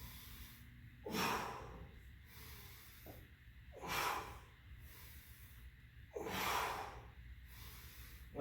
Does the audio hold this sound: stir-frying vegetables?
no